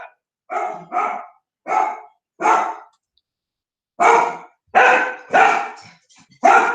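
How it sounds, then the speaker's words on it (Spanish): A dog barks in loud bursts after someone knocks at the door, giving four quick barks, a short pause, then four more close to the listener, with no talking. "Perdón un momentico que aquí se alborotó el perro."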